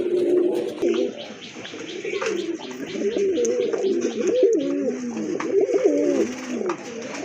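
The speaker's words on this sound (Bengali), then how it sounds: "আরেক জোড়া কবুতর দেখতে পাচ্ছেন" Pigeons coo repeatedly in soft, rolling, overlapping phrases close by, a steady murmur of bird calls with faint background noise.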